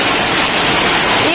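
Floodwater rushes around a house in the countryside, a loud, steady, broadband roar like a waterfall that fills the whole clip without letting up.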